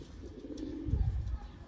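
Tumbler pigeons cooing on holiday, soft low throaty coos close by that swell in the second half, over faint background hiss.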